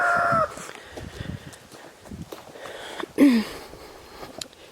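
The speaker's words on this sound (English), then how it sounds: "J'ai pas encore nourri les poules." Hens on a permaculture homestead give a few short clucks and squawks, one near the start and one sharper call later, faint against outdoor rustling and sniffing.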